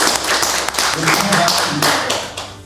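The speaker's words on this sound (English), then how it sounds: "Let's give Divina a round of applause" A graduation audience for an African leadership programme claps for a speaker; dense, close clapping fills the stretch, steady and then tapering slightly near the end.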